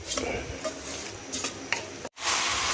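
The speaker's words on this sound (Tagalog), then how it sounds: "Haluin na natin ito mga idol hanggang sa ano na siya, mag-brown." Pork browning in its own rendered fat, stirred with a utensil: loud close sizzling with repeated scraping strokes against the pan, broken by a brief cut to near silence before the frying resumes louder.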